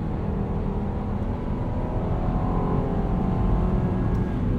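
Cabin sound of a 2022 Jeep Grand Cherokee Limited cruising on a highway, a steady low road and engine rumble with a smooth wind hiss that holds evenly throughout, with no talking.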